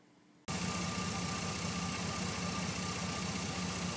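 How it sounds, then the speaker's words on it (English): An old truck engine fresh from a tune-up starts after a brief quiet moment, then runs at a loud, even, steady idle with no stumbles, close by and without any talking. "This is how your truck should be running. Running smoothly, no hesitations or misses, no rough idles or anything like that."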